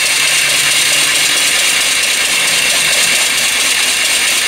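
A small hobby steam engine runs with a fast, steady, hissing rattle, bright and close, continuous throughout with no voices over it.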